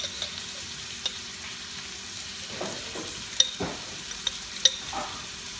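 Shrimp paste fries in a pan with a steady sizzle while it is stirred, and sharp clicks and scrapes of the utensil against the pan come at irregular intervals.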